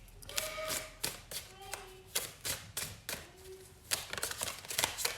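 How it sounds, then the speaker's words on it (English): A deck of tarot cards being shuffled by hand, giving a run of quick, close riffling and tapping bursts with brief pauses between them, moderately quiet and with no talking. "these decks are pre-shuffled, so I'm just going to shuffle it to get the energy in it"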